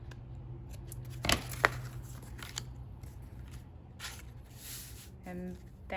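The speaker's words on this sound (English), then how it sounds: "I'm going to trim off that little bit that's hanging off." Scissors trim a loose edge off a handmade paper card, giving a few crisp close snips, then soft paper handling and light rustling.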